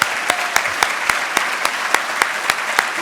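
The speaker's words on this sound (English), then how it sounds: "let's all give them a round of applause as well." Audience applause at a Take Back America political event: scattered, sparse hand claps ring out at an uneven rhythm, a smallish crowd clapping for volunteers at moderate distance with no talking over it.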